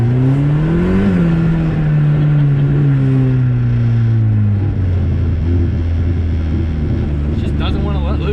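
A turbocharged all-wheel-drive Honda Civic wagon launches on an icy mountain trail, its engine note climbing and then settling into a loud steady drone that runs throughout, with people talking over it.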